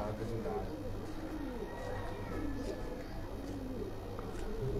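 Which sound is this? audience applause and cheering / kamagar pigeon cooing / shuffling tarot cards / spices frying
kamagar pigeon cooing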